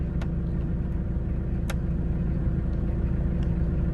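Hyundai Porter truck engine running steadily just after starting, a continuous low rumble at close range with a couple of brief sharp clicks over it and no talking.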